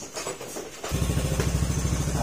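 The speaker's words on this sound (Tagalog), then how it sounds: "Ayan, na-correct na natin yung engine speed niya mga sir." After a brief rustle, a Honda Genio 110 scooter engine settles into a steady, throbbing idle after its engine speed was corrected, its low pulses beating evenly and close by.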